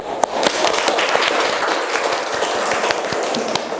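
An audience claps at an academic teaching session, a dense, steady patter of many hands close by that holds at an even level from start to finish, with no voices above it.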